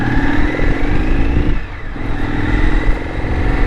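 A motorcycle engine, an FTR RSD Super Hooligan, runs loud and close, revving steadily with a brief dip in the middle before picking back up.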